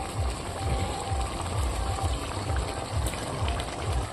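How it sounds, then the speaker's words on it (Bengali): Fish curry simmering in a pot, with dried fish, potato and eggplant in the gravy; a steady, close bubbling and churning of liquid that holds at an even level throughout. "4 থেকে 5 মিনিট মতো মাছটা আমি ফুটিয়ে নেবো"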